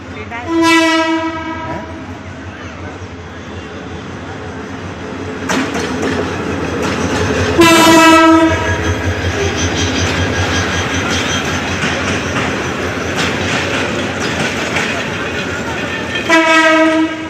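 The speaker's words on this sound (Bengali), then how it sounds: "ট্রেন চলে আসছে।" A train pulls into a station in Bangladesh, its loud horn blaring in repeated long blasts over the rumbling, clattering wheels that fill the scene throughout, with faint voices nearby.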